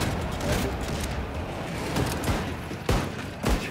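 Shotgun fire in the video game Wolfenstein II: The New Colossus, a few sharp booming blasts amid dense combat noise.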